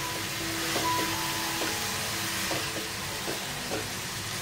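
Ground sesame and poppy seeds sizzling in a hot pan for a modak filling, with a soft steady frying hiss and faint rhythmic scrapes of stirring, close up and without talking.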